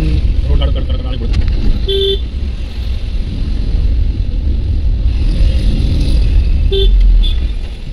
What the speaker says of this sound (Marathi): जवळजवळ अर्धा पाऊण तास झाला आता आम्ही ट्रॅफिकमध्ये.